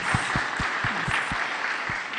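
Audience applause at the inaugural session of an industry conference, a short burst of steady clapping with some low thumps mixed in.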